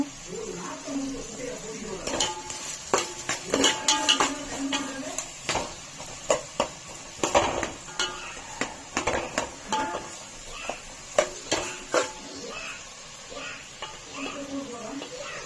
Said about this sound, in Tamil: நல்லா வெங்காயம் நல்லா வதங்கட்டும்.